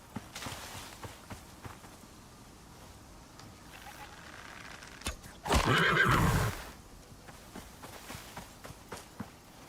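Baby horse in the video game Icarus gives a loud, brief neigh in the middle, with faint hoof steps and soft game ambience around it.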